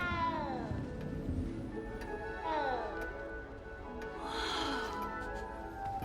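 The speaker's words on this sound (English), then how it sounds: "You don't need to be frightened, little cat." A small cat meows in the Hogwarts Legacy castle, a few drawn-out plaintive cries with falling pitch spaced across the stretch, moderately close over a low background ambience.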